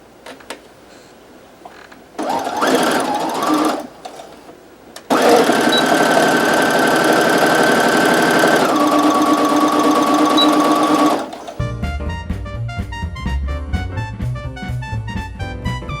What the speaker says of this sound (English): So I'm going to go ahead and sew these together.